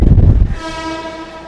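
A light rail train rumbles loudly close by, then a sustained horn tone holds steady as the rumble fades.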